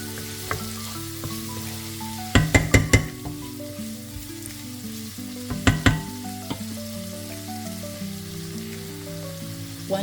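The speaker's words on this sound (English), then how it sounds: "I'm mixing through the onions and the garlic until it's nice and soft" Diced onions and garlic frying in a pan for a beef and potato curry, a continuous close sizzle broken by two quick bursts of clattering strokes as the spoon stirs them, with no talk.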